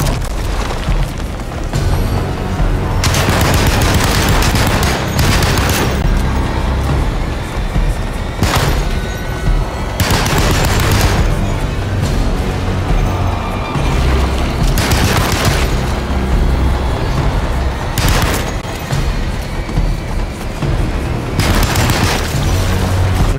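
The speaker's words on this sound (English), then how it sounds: "I guess we just shoot it" Gunfire aimed at a creature in Alone in the Dark, loud booming shots and bursts repeating throughout, dense and close with rumbling tails between blasts.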